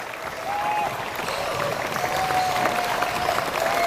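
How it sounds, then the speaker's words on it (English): Audience at a youth climbing championship lead final applauds the jury president and head judge, a steady, moderately distant wash of clapping lasting a few seconds. "A big round of applause."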